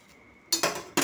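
Dishes and cutlery clink as a plate is set out in a home kitchen while serving pithla bhakri, with two or three sharp, close metallic knocks after a quiet start and no talk.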